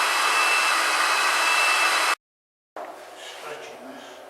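A hair dryer blows a steady, loud, close whine while drying a roughly textured surface during a bonsai club demonstration, then cuts off abruptly, followed by quieter room sound with faint handling.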